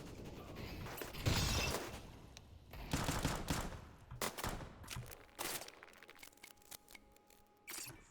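Grenade bursts and gunfire in a first-person shooter match on the Mirage map, with sharp explosive blasts, crackling fire and scattered shots in dense irregular bursts, fairly loud throughout, with no voices.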